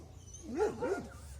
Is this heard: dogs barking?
yes